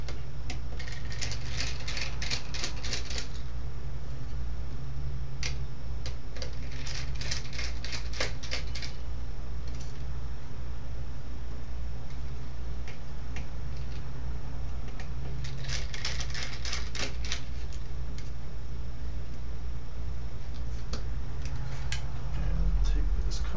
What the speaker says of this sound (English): So I'm going to take the top screws off of this.